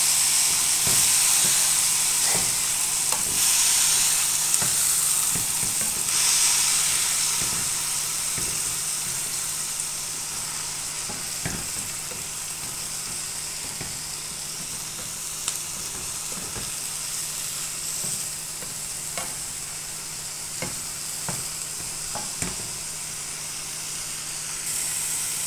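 Fenugreek greens fry in a pan with a loud, hissing, steamy sizzle that continues throughout, punctuated by repeated clicks and scrapes of stirring.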